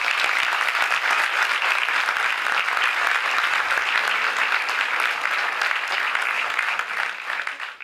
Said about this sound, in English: A big round of applause to him, please.